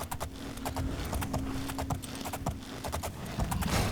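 Horse hooves clip-clop in a steady, quick rhythm while riding through the Oblivion video game, the sharp footfalls close and clear over a faint background.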